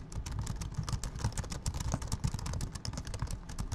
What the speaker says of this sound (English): I press 58 of those keys at a rate of 120 words per second to write code